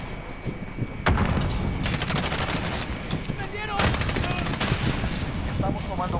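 Gunfire in Call of Duty Modern Warfare with an AX50 sniper rifle: a sharp shot followed by rapid automatic bursts, loud and close, with a voice faintly underneath.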